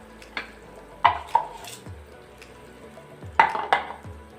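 Soaked rice tipped into a pot of jackfruit biryani and stirred, giving a few sharp clatters and scraping stirs with a faint sizzle underneath, no talking.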